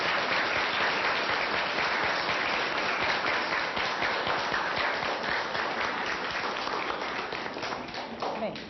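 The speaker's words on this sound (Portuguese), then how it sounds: "Então, nós vamos aplaudir as felicitações que vocês trouxeram para esta assembleia" Dense, continuous clapping from students at a school assembly, a loud crowd of hands that holds steady and tapers slightly toward the end.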